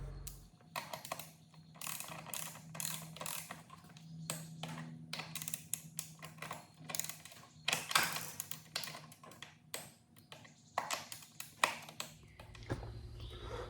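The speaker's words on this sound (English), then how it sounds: "So we'll get these things tightened down." A ratchet turns a 1 1/4 inch socket to tighten the front suspension anchors on a Honda CRF250F dirt bike. Rapid clicking pawl strokes come in steady, close bursts over a faint background hum.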